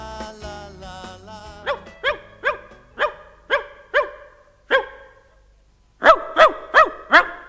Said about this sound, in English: Who's that barking? It's Wags the dog.